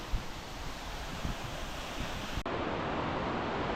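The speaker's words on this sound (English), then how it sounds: "the roaring Dingboche river" Steady broadband rush of the roaring Dingboche river beside a trekking path near Bangkar village on the Everest Base Camp route, constant and fairly loud with a brief dip midway, no voices.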